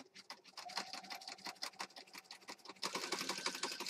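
A sewing machine stitches through glued paper in a handmade junk journal, a quick, steady run of close mechanical ticks and clatters that grows louder and denser toward the end.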